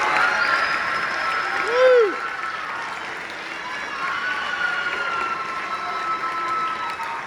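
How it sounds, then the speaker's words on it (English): Audience applause at a university senior wind ensemble concert, a broad steady wash of clapping heard from a distance, with a brief whistle-like tone rising near the start and faint voices underneath. "So can we give another round of applause?"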